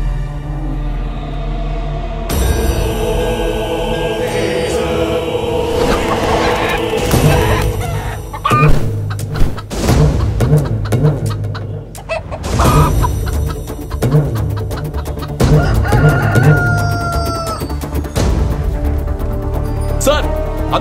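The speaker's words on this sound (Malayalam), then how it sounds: "അന്ന് നേതാജി നഗറിൽ കാണാതെ പോയ കോഴി പത്മയുടെ ജീപ്പിൽ കിട്ടിയിട്ടുണ്ട് സാർ" A chicken clucks and a rooster crows in a film scene, the bird calls rising in bursts over a busy background of music and other sounds, fairly close and loud.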